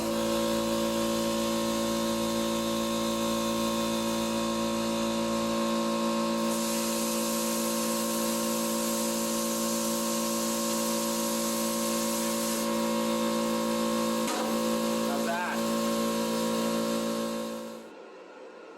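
A small 220-volt cutting machine running on about 20 amps cuts through metal with a steady, loud hiss and hum, broken by a few crackling bursts near the end before it cuts off.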